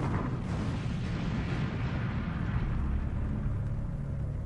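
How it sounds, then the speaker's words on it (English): Deep, rumbling roar of a major explosion at a large oil refinery, a sustained low boom and blast noise that stays loud and dense throughout with no talking. "America's third largest refinery suffered a major explosion."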